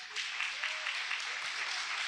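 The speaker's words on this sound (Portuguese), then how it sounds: "Aplauda bem forte ao Senhor." A church congregation applauds at a worship service, with steady sustained clapping from many hands at moderate loudness, and a faint voice briefly rising beneath it.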